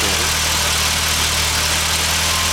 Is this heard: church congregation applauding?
no